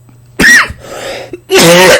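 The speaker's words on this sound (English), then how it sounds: "that was a surprise cough." A sudden, loud cough bursts out, followed by a quieter breathy pause and then a second harsh, throaty burst, close to the listener.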